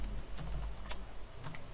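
Scattered keystrokes on a computer keyboard during Emacs editing, a handful of soft, uneven clicks and taps close by over a low background hum, with no talking.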